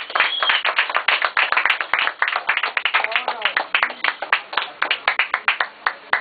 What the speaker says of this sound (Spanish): Un aplauso para este maestro.